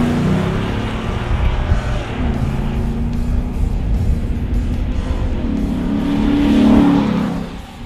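A Ford Raptor's 6.2-liter SVT engine fitted with a BBK throttle body runs with a deep, continuous rumble, swelling briefly toward the end as if revved, loud and close with no talking.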